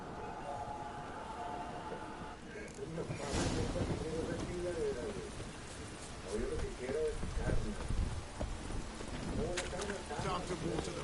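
Horse hooves clip-clop in The Witcher video game, a rhythmic trotting patter running steadily beneath voices and game ambience.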